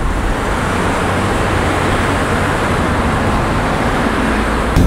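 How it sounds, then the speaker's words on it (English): Steady, loud road traffic roar heard from inside a moving car in city traffic, a continuous broadband rumble with no breaks and no voices. "this traffic is a mess"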